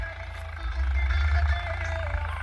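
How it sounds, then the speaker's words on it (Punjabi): A tractor engine rumbles steadily close by in a field, a low throbbing drone with faint higher-pitched noise above it. "ਤੇ ਉਹ ਚੱਲ ਰਿਹਾ ਸਾਹਮਣੇ ਟਰੈਕਟਰ"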